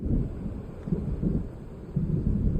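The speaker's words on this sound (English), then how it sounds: "It seems there's a storm coming." Low, rolling thunder of an approaching storm in the video game Alan Wake Remastered, a steady distant rumble with a few swelling peaks, heard alone with no voices.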